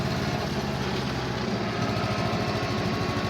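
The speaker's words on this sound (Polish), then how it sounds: "oglądajcie jak wygląda tutaj przyspieszanie tego ciągnika" A modified Ursus C330 tractor engine runs continuously with a low, pulsing rumble that grows faster and more insistent as it revs up, with no voices.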